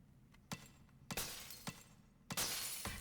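Glass shatters three times in The Legend of Zelda: Echoes of Wisdom, each a sharp crash with a bright tinkling tail, evenly spaced and close, with no talk over them.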